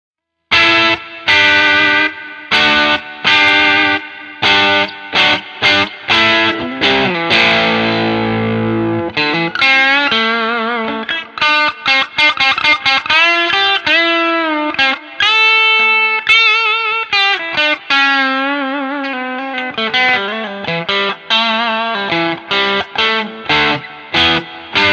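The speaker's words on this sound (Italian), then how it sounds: "Decisamente si sente di più questo twang da Telecaster." An Arrow Guitars Telecaster-style electric guitar on its bridge pickup, bright twangy picked notes and quick runs with chordal passages, loud and close, played alone with no talking.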